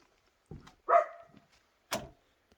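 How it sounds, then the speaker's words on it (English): Pickles the dog barks near a pickup truck outdoors at a cabin work site, giving three short, separated barks at moderate distance with quiet pauses between them. "he's barking over by my truck"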